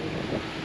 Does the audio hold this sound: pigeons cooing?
no